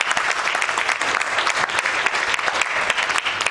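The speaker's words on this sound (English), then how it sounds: "please give a round of applause to Mr." Sustained, dense applause from an audience at a fashion workshop event, steady and loud throughout with no talking over it.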